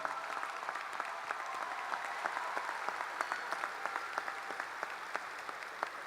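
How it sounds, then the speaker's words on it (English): Graduation crowd at St. Charles Family Arena applauding to thank the arena staff, a broad, moderately distant wash of many hands clapping with occasional sharper individual claps, steady for several seconds. "please join me in a round of applause to thank the staff here at St."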